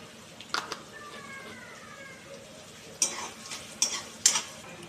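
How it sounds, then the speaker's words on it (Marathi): Chopped onion with asafoetida sautéing in a pan, a soft steady sizzle under occasional spoon scrapes and sharp clinks against the pan, with a faint voice in the background. "कांदा टाकलेला आहे, तो परतून घ्यायचा आहे चांगला। त्यात हिंग टाकलं आहे,"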